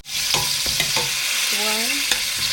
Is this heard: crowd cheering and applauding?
no